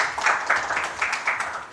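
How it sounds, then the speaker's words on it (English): A small audience gives a brief, soft round of clapping to welcome a speaker at a tech-policy event, the claps loose and moderately close. "Can we give her a round of applause and welcome here today?"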